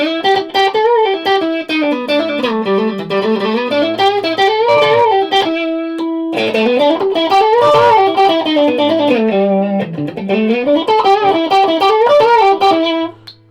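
Electric guitar with a humbucker pickup running through effects, a loud, continuous melodic passage with sustained chorus-tinged notes and a short held note near the middle.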